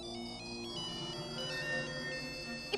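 Mobile phone ringtone playing a bright electronic melody at steady volume, faint and continuous, with no talking.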